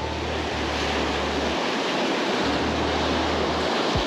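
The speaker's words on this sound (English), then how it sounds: "This spot is a little bit closer to where all the big waves are crashing" Big ocean waves crash against a rock jetty at Oceanside, California, a steady loud surf roar with wind rushing across the microphone and no voices.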